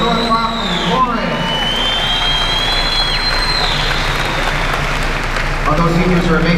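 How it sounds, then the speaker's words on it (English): Applause at a high school graduation, a large crowd clapping steadily for several seconds, with a voice speaking at the start and end. "One more time, let's give a big round of applause to Miss Antillo"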